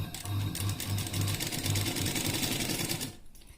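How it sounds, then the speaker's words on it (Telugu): A sewing machine stitches lining into high-neck booties, running in a steady rapid whir with a pulsing rhythm for about three seconds before stopping, close and alone. "ఇలా లైనింగ్ మాత్రం అవుట్ సైడ్ కనిపించకూడదు. ఇలా అనుకుంటూ కుట్టు వేసుకోవాలి."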